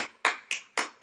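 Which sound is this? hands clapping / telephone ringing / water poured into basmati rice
hands clapping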